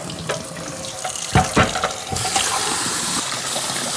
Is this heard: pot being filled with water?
yes